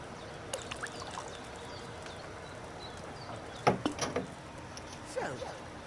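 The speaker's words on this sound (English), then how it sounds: "So, what did you pour in there? Wine, of course." Wine poured into a cauldron in the video game Kingdom Come Deliverance 2 gives soft, faint trickling splashes in a few short spurts over a quiet ambient background.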